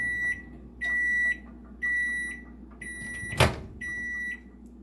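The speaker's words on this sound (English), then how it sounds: "She doesn't finish the second you open that door with the beeping." Emerson microwave oven finishing its cycle, sounding a series of five steady electronic beeps at an even rhythm over a low motor hum, with a brief click or door clunk between the fourth and fifth beeps.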